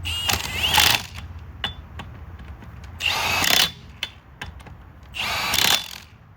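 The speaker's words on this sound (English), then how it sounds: "that should be as close as we can get with the power tool" A power tool whirs and rattles in three loud bursts, each under a second, tightening lug nuts on a 1999 Buick LeSabre wheel, with sharp clanks and mechanical noise between them, up close.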